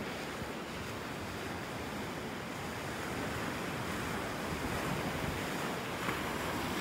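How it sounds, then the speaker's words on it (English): Ocean surf rolls and washes onto the beach at Wiggins Pass in North Naples, Florida, a soft, continuous broadband roar heard faintly from a distance, with wind buffeting the microphone. "We just walked up the beach."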